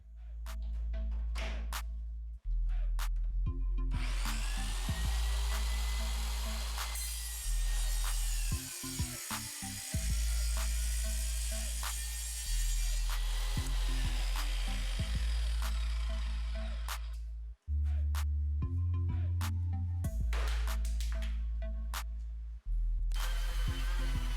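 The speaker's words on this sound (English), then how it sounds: "I'm going to use my track saw to do that." A track saw whines through a live-edge wood slab in long passes, motor spinning up and down between cuts, loud and close with brief pauses.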